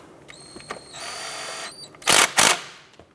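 A brake caliper bolt on a 2006-2013 Chevrolet Impala is tightened with a power tool, giving a thin whine followed by two loud, short bursts close by.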